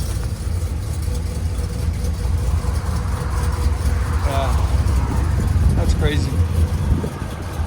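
A RAM 1500 pickup fitted with a swapped Scat Pack engine idles through headers with the valves closed, a steady deep low rumble that holds throughout while a person speaks briefly over it.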